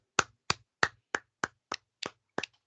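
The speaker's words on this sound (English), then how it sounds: "So let's clap it up." Eight sharp, evenly spaced claps from a single pair of hands, close and crisp, with short silences between them.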